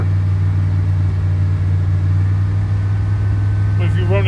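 A steady engine held near 2,200 RPM drones loud and constant, with a deep, even low rumble and no change in pitch, and a brief voice comes in near the end.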